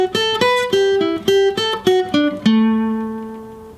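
Embellished lead guitar line from a song intro, a quick run of plucked, bright single notes with slides, ending on one sustained ringing note, played alone and up close.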